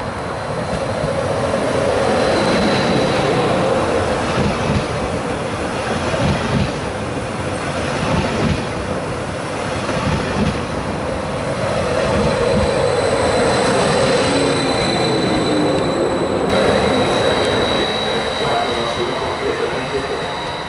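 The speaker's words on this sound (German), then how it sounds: "Treno in transito al binario" A train passes through Ponte Gardena station, a loud, steady rumble of wheels and cars lasting about twenty seconds, with faint squeal-like tones riding on top.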